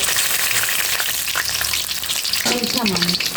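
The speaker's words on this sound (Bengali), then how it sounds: "এখন এক এক করে আমি সবগুলো ভেজে নেব" Meat rolls deep-fry in hot oil on low heat, giving a steady, close, loud sizzle and crackle that carries on throughout, with a brief clink of utensils near the end.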